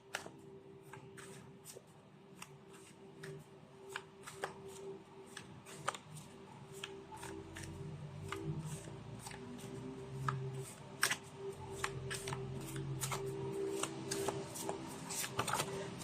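Tarot cards are shuffled by hand in a quiet room, making a steady stream of soft riffling and sharp little card snaps that grow denser and louder toward the end.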